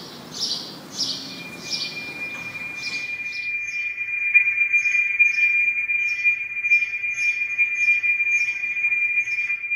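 Sparrows chirp in quick repeated bursts while a steady high metallic ringing tone from a struck brass bell sustains underneath and continues after the chirping thins.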